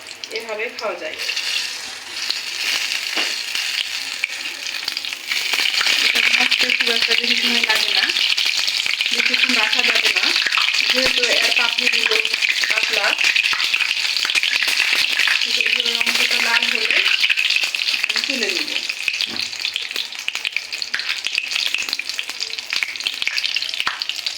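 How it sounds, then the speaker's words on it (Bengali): Pumpkin flower fritters fry in hot oil with a steady, loud crackling sizzle that swells as wet batter spatters, while someone talks intermittently over the pan. "গায়ে পানি আছে পানিটা ছিটে তেলে পড়ছে তখন তেলটা ফুটছে"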